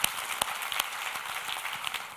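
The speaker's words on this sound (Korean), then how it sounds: "우리 하나님께 감사와 영광의 박수를 드리겠습니다." A church congregation applauds in a steady patter of many hands clapping, moderately loud and continuous for a couple of seconds, with a few sharper claps standing out and no speech.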